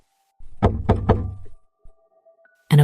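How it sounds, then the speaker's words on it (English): Three firm knocks on a basement door in quick succession, close and loud, followed by a faint thump and a quiet hum, then a sudden louder sound at the end. "He knocked,"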